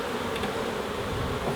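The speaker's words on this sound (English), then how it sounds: "And there's a lot of bees here now." Honey bees buzz at an open beehive during a swarm inspection, a dense, continuous hum of many insects heard close up.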